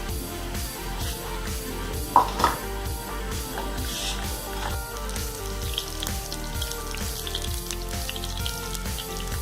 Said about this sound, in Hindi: पनीर के टुकड़े थोड़े से गुलाबी होने तक इनको फ्राई करेंगे